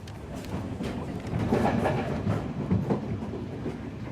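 A Sri Lankan passenger train runs on its rails, the carriage rumbling with rhythmic clickety-clack from the wheels, steady and close from inside the moving train.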